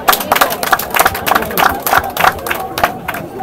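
Wedding guests clapping in a crowd, a steady patter of many hands with cheering and chatter mixed in, close and lively throughout.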